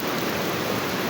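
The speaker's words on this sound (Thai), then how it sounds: "ฝนตกหนักวันนี้" Heavy rain pours down steadily during a flood, a dense, even hiss with no pauses or voices.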